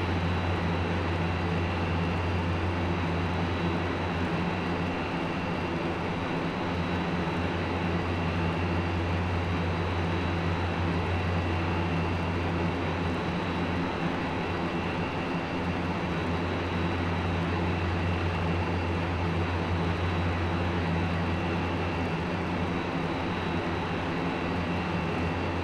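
C-160 transport aircraft engines at takeoff power in a flight simulator, a continuous loud droning roar with a steady low hum and no pauses or talk.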